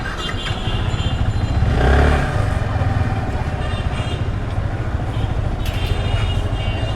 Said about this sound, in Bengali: চলেন একটু বাইকটা চালাই